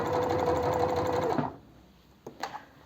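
A domestic sewing machine runs close up at steady speed, stitching a long seam along a fabric edge. Its motor whirs for about a second and a half, then stops, followed by a few small clicks and handling noises.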